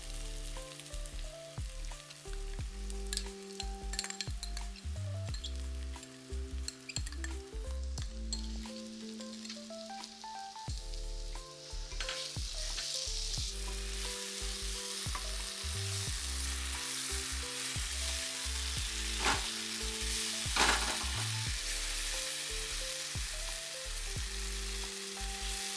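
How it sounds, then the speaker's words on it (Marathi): Spices and curd frying in oil for a vegetable dum biryani, a steady close sizzle with soft stirring scrapes throughout, while background music plays along with it. "आता मसाले पण आपले छान फ्राय झाले"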